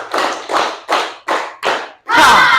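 A group claps in rhythm during an Indonesian classroom activity, five sharp loud claps in a steady pattern, then a sustained burst of voices shouting together.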